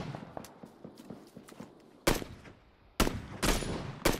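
Gunfire in a shooter video game: a run of quiet rapid pops, then several loud close blasts in bursts.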